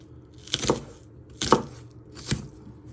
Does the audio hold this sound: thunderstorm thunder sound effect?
no